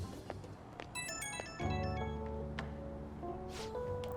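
A phone rings in Persona 5 Royal with a bright electronic melodic ringtone. Its repeating tonal pattern plays steadily and fairly quietly over soft background music, with no voices.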